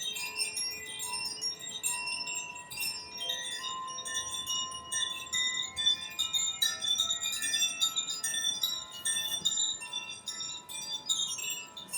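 Soft tinkling bell music plays steadily throughout, with bright chiming tones over a gentle sustained background, as a calm accompaniment for a chair yoga mindfulness session.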